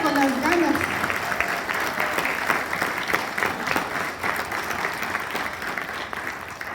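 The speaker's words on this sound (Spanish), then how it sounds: "¿quiere darle un aplauso al Señor?" Church congregation applauding the Lord during a Spanish-language sermon, steady sustained clapping throughout with some voices mixed in.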